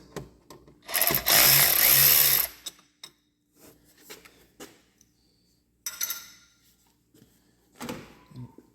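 Tools loosening a 10 mm bolt and T20 Torx screws on a Tesla Model S during air conditioning work, with a sustained loud ratcheting burst followed by scattered lighter clicks and taps.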